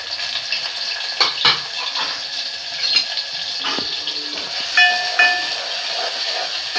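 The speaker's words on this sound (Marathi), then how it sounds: "तेल तापलं की कांदा टाकूया।" Chopped onion dropped into hot oil in a pan for a shrimp fry, giving a steady hissing sizzle with steam. Spoon clinks and scrapes come through close by, and no one talks.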